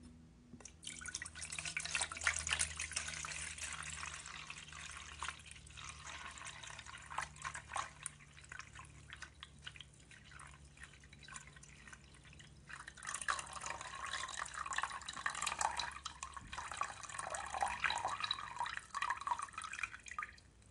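Water pours steadily into a container on a kitchen scale until a kilogram, about one litre, is reached, a splashing, trickling fill with a brief pause midway before it resumes.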